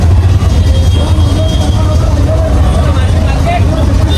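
An auto rickshaw rides through rainy traffic in Kalyan, its engine a steady close low drone mixed with surrounding road noise and faint voices, continuous throughout.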